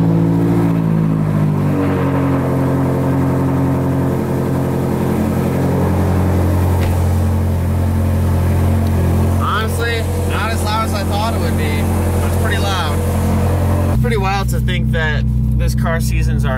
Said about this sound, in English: This will be my first cold start after a very long time, probably a couple weeks.